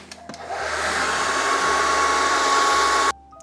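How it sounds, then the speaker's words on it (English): A hair dryer runs close and loud, heating plastic adhesive stuck to a drywall wall; a steady whooshing roar starts, holds, then cuts off abruptly. "I'm gonna use this hair dryer and see if I can just, I guess, melt the plastic away"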